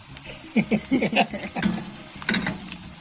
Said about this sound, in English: you don't want to overcook and burn the garlic, so you just letting it saute, simmer it out